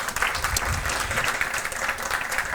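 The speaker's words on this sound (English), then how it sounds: "So give the young people here today a big round of applause if we can as well too." Audience applause for young people at a community forestry corps kick-off event, a steady, even round of clapping from a gathered crowd, moderately loud and continuous without talk.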